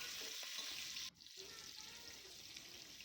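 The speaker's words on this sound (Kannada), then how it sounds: "ಇದಕ್ಕೆ ಈರುಳ್ಳಿನ ಹಾಕಿ ಫ್ರೈ ಮಾಡ್ಕೊಳ್ತಾ ಇದ್ದೀನಿ" Onions with green chillies fry in a pan with a faint, hissing sizzle that dips sharply for a moment and then continues more quietly.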